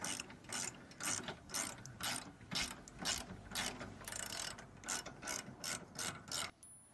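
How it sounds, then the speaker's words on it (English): A 15/16-inch wrench is tightening the bolt on an e-bike hitch rack with a quick ratcheting clicking that comes in short, even bursts, close up and fairly quiet, then stops. "My 15 by 16 inch wrench will do the trick."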